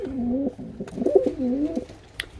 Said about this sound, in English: So this is a great looking little pigeon.